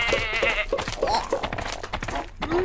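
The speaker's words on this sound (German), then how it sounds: "Wie schön, dass hier so viele Schafe sind." Several sheep in a video game bleat repeatedly in quick, overlapping calls at close range, loud and clear against a light game backdrop with no talk.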